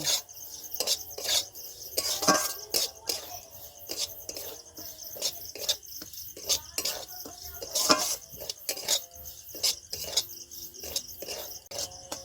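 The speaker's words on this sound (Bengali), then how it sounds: "আমি সুজিটা এইভাবে ভেজে নেব।" Dry semolina, about one cup, is roasted in a pan while a spatula stirs it, giving steady scraping and rasping with frequent sharp clicks against the metal, close and fairly quiet, with no talking.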